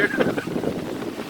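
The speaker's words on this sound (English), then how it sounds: "I hope you can hear me alright because it's a bit windy today here." Gusty outdoor wind buffets the microphone in low rumbling surges on a windy day by a forest, steady and fairly loud throughout the short stretch, with no speech in it.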